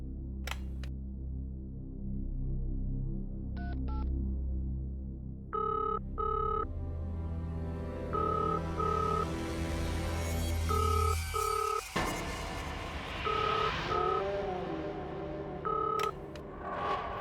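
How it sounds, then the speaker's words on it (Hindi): A hotel room phone calls reception, playing dialing and ringing tones: a few short beeps, then repeated electronic ring bursts over a steady low hum, with no talking. "रिसेप्शन पे फोन करता हूँ"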